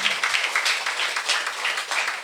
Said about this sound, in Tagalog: Pumalakpak ang naniniwala.